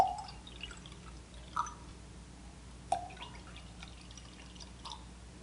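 Plain water is poured in short, faint splashes into small containers being filled for color mixing; a few separate drips and trickles fall at spaced intervals in a quiet room.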